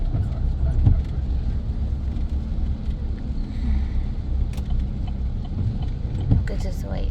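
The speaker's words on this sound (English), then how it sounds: "My car's backing up right" Engine of a pickup truck rumbling low and steady as it backs up with a teenage driver at the wheel, close and continuous, with faint voices inside the cab.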